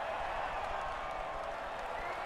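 Crowd applause at the podium ceremony in the F1 2018 racing game, a dense, steady wash of clapping and cheering held at an even level through the whole short moment.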